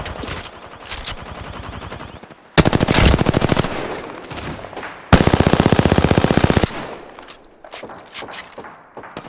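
Automatic weapon fire in Call of Duty: Modern Warfare II, arriving as loud rapid machine-gun bursts, with two long sustained volleys in the middle and scattered shots before and after.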